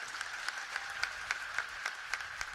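Rhythmic, evenly spaced clapping sounds at a Maratha community rally in Pune district, a sharp repeated beat about four claps per second, fairly faint and steady.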